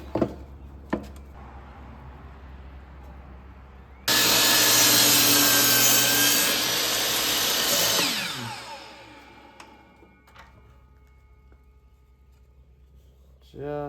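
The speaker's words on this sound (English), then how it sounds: "My blade on my table saw desperately needs to be replaced, so we're ripping this the hard way." A table saw with a worn, dull blade rips through wood, starting abruptly with a loud, bright, grinding roar that holds for about four seconds before spinning down, with a few knocks before and after.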